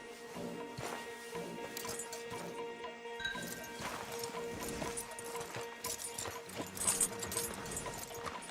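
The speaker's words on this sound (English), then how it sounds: "Marston, you're gonna tether him up to Javier's horse" Horse hooves clip-clop in a rhythmic, moderately loud pattern in the video game Red Dead Redemption 2, mixed with other game sounds and occasional knocks.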